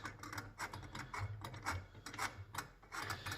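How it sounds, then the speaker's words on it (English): A bolt is twisted and tightened by hand while building a roller trailer, giving faint, close ratcheting clicks and gritty metal rubbing in quick irregular bursts, with no voices. "I'm putting the bolt in."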